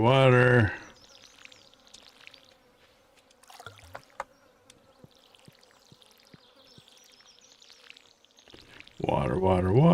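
Watering can in Stardew Valley pouring water over crops, several soft splashy pours and small clicks in a quiet stretch between bursts of talk at the start and end.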